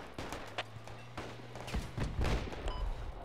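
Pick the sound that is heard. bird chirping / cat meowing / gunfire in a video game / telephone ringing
gunfire in a video game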